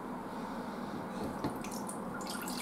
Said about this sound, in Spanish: Añadiremos el agua.